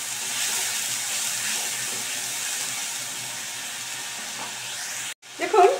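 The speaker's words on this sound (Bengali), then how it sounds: "পেঁয়াজটাকে অ্যাড করে দিয়ে আমি কিন্তু ভালো করে মিশিয়ে নিচ্ছি" Onion paste fries in a pan while being stirred, a soft continuous sizzle and hiss with scraping stir strokes, ending in a brief louder clatter after a short break.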